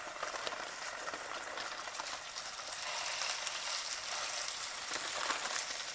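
Beef fillets frying in a hot pan, a steady dense sizzle and crackle that swells slightly midway, close and continuous with no talking.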